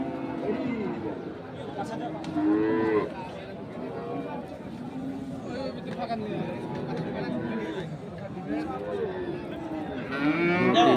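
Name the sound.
cattle mooing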